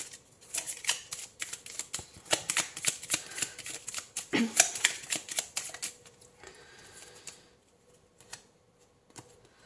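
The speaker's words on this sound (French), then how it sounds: "On va prendre 2 cartes." Oracle cards are shuffled and drawn with rapid, close riffling flicks in bursts, then a single card snaps down and the sound trails off into near silence.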